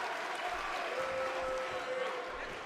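A video game wrestling crowd in WWE 2K18 claps steadily in a dense, continuous wash, with someone talking over it.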